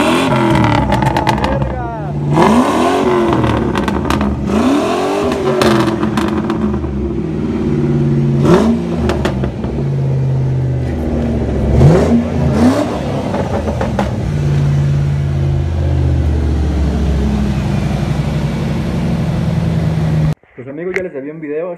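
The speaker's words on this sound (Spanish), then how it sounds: "Es que escúchenlo, va. Escúchenlo nomás." A Mustang Cobra engine revs hard, rising and falling in repeated throttle blips with a loud rumbling exhaust, while people talk over it; the roar cuts off abruptly near the end.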